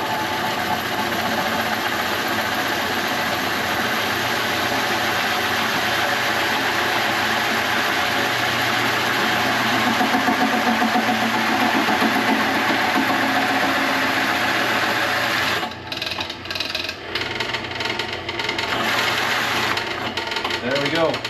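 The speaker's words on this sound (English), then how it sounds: "I feel much more in control of the material and the drill this way." A power drill whines steadily as it bores through material for a long stretch, then sputters and stops in short bursts near the end.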